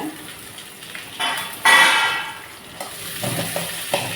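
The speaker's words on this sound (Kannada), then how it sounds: "ಸ್ವಲ್ಪ ಉಂಟಲ್ಲ ಒಗ್ಗರಣೆಯಲ್ಲಿ ಫ್ರೈ ಮಾಡಿದರೆ ಒಳ್ಳೆಯದು." Okra and onion fry in a hot oil tempering, giving a sizzle that swells loudly midway and then settles, with light stirring and pan noises close by.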